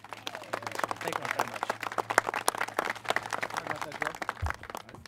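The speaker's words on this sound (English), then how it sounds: "Please give a warm round of applause for guys working really, really hard down at City Hall" An outdoor crowd at a Mira Mesa sports fields opening in San Diego claps for Councilmember Chris Cate, a dense patter of hand claps with steady background noise and murmuring voices.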